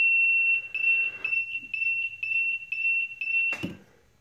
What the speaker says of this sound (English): if the water comes up and lifts this up, you'll notice that alarm go off